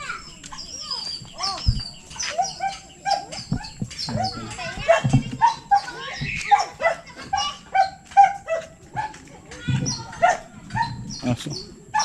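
A dog barks intermittently nearby while people talk and move about in a busy, echoing space.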